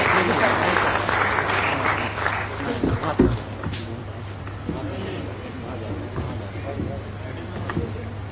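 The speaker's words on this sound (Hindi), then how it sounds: "एक बार जोरदार तालियां होनी चाहिए" A crowd at a government sports event claps loudly for the Chief Minister after athletes receive their award cheques, sustained applause that swells then settles, with a voice speaking over it.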